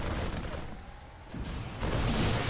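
Gunfire in a StarCraft 2 match on the Cloud Kingdom map: loud bursts of game shots open and close a short stretch, with a quieter dip between them.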